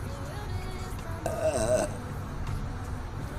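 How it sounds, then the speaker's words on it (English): A short, throaty burp rises briefly above a steady background hum, close to the microphone and lasting under a second. "Burp."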